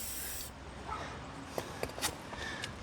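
Aerosol can of Liquid Wrench and WD-40 sprayed onto the gear box of a 2004 Yamaha Breeze, a steady close hiss for about half a second followed by faint handling rustles and small clicks.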